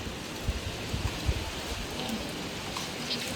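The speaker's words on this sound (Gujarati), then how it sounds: "જો ભાઈ વરસાદ ચાલુ થયો" Steady, dense rain falling outdoors in a Gujarat village, a continuous close hiss of drops with a few low thumps, no voices.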